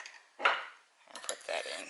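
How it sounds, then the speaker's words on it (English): A metal spoon digging solidified, refrigerated garlic oil out of a container, with two or three short scraping, clinking strokes, close and quiet. "I'm going to dig out this precious garlic oil"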